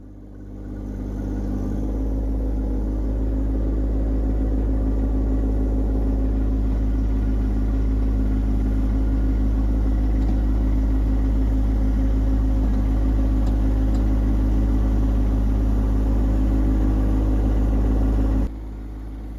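A John Deere 1025R compact tractor rumbles steadily at a near, constant engine note while dragging a smudge bar to smooth road base over granitic sand, running for about seventeen seconds before the engine drops off.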